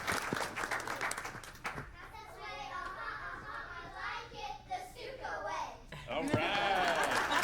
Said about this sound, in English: How about another round of applause for E.C.